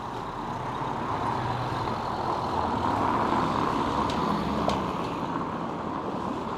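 Vehicles rolling over a cobblestone street in Paguera, Mallorca, give a steady, loud rumbling drone throughout, with a faint brief clack near the end and no voices.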